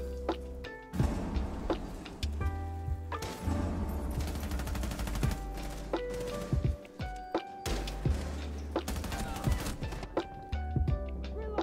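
Gunfire and explosions in the video game Rainbow Six Siege, including a C4 charge: dense, repeated sharp shots and booming blasts with background music running throughout, fairly quiet overall.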